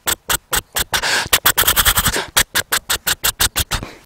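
A voice imitates a power tiller engine chugging: a quick run of sharp, regular pops with a brief rougher stretch in the middle, close and loud.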